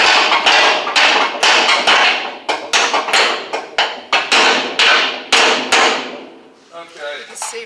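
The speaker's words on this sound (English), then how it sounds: "I think if you get like a claw hammer and pull it up" Loud, sharp claw hammer blows strike the metal of a square-body Chevy truck over and over in an uneven rhythm, sometimes in quick pairs, with brief pauses between bursts.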